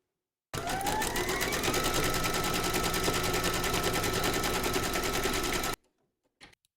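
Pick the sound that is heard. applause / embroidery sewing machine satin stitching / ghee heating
embroidery sewing machine satin stitching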